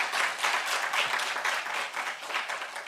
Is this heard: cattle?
no